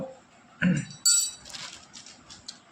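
A spoon adds a spoonful of sattu to fish bait for catching rohu and catla: two sharp, close metallic clinks, then light scraping and soft taps fading out.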